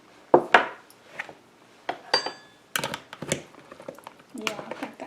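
A fork scrapes and clinks against a dish of taco tater tot casserole while it is stirred, giving irregular knocks and scrapes at close range, with a voice talking between them.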